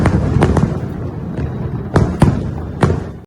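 Diwali fireworks crack and pop in a string of sharp bangs over a dense, rumbling backdrop of distant explosions, loud and continuous throughout.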